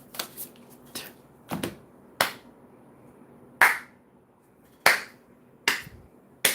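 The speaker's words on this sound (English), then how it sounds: "That's my Shia LaBeouf clap" A single person claps by hand in sharp, irregular bursts, some single and some doubled, close and crisp with silence between.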